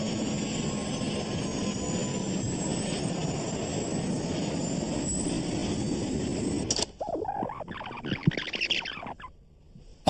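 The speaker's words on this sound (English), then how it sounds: "Video of the crash picked up the distinctive sound of the A320's engines accelerating." A loud, steady Airbus A320 jet engine roar with a thin whine climbing in pitch as engines accelerate, then an abrupt cutoff into scattered bangs and clatter of a crash.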